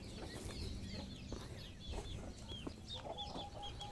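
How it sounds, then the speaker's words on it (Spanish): Soft clucking of a hen with high, thin peeping of chicks scattered throughout, quiet and somewhat distant against outdoor background noise. "Y por ahí anda la gallina con sus hijitos."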